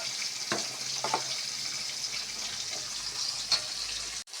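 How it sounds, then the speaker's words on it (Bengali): Rui fish frying in a pan gives a steady, close crackling sizzle with a few sharp pops and a brief clatter at the end, and no one speaks. "এখানে মাছগুলি ভাজা হয়ে আসছে"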